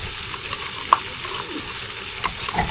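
Finely chopped ginger and garlic frying in a pan, a steady close sizzle with a few sharp pops and scraping stirs, no voices over it.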